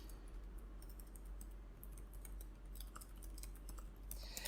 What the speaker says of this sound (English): I can't type and talk for some reason.